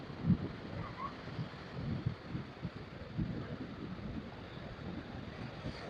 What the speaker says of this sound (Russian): на этом пляжу, тут часто, постоянно практически ветер